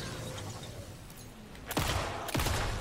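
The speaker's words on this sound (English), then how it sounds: "I was shooting their head" Two loud, close gunshots ring out with a longer ringing tail in the horror game Alan Wake 2, following a stretch of steady hissing background noise.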